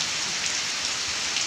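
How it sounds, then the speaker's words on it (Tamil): Heavy rain pours down steadily as a dense, even hiss of drops striking surfaces, loud and close with no breaks and no voices. "உங்கள் ஊர்லலாம் இவ்வளோ மழை இருக்காணி?"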